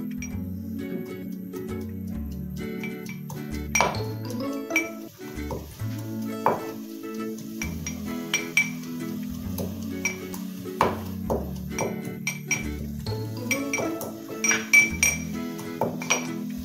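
Chopped ginger pounded in a mortar at home while cooking arvi chicken, giving repeated close clinking and knocking strikes in an irregular rhythm over a steady low background hum.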